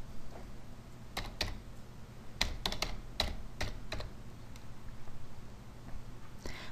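Someone types on a computer keyboard nearby to enter a server login and password, producing scattered crisp key clicks in short irregular runs with no talking.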